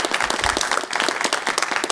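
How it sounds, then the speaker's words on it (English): Convention crowd at a pony-fandom agent panel bursts into loud applause for a guest, a brief, dense, close burst of clapping filling the room. "Huge round of applause, please, for Agent Extraordinaire,"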